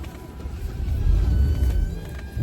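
A 1984 Mercedes 500SEL engine turning over and catching, a loud close low rumble that swells to a steady idle without any voices.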